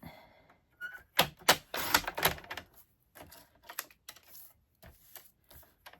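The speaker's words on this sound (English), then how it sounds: "Bring my paper trimmer back in. And now I want to trim off this excess off the bottom and the side." A paper trimmer slices excess card stock off the bottom and side of a stamped card, making close, sharp clacks and sliding blade scrapes in quick irregular bursts, with short pauses between cuts.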